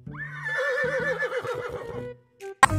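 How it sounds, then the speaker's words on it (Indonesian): A purple winged flying horse in the video game Jurassic World Evolution 2 lets out a loud, close whinny that rises, wavers and trails off, followed by a short snort and a sharp click. "Ada seekor kuda terbang."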